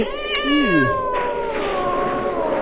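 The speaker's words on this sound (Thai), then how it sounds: "เฮ้ยไอแมวบ้าไอแมวบ้าลงไป" A cat gives a loud, drawn-out, wavering meow close by in a haunted house video game, over a low steady background drone.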